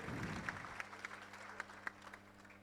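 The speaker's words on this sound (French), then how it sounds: "Un tonnerre d'applaudissements, s'il vous plaît." A graduation ceremony audience applauds an engineering graduate, a thin, fading patter of clapping with a few distinct sharp claps standing out over a low steady hum.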